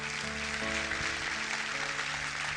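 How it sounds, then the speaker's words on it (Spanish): A church congregation claps together in a steady, broad wash of applause that fills the room, with music or voices tones faintly underneath. "Denle un aplauso a Dios."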